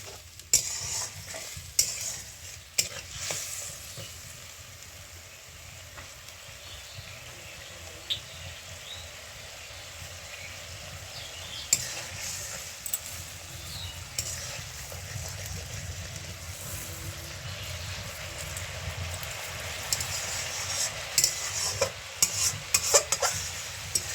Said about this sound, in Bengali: দেখুন এবার দিয়ে দিচ্ছি টমেটো বাটা মশলাটি ভালোভাবে কষিয়ে নিতে হবে